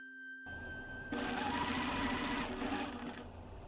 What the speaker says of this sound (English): first pin the tape right sides together along the neckline and sew at 1/4 seam allowance